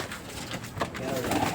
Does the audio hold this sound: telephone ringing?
no